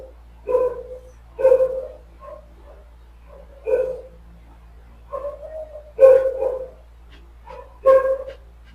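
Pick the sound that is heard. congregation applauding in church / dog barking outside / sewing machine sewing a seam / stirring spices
dog barking outside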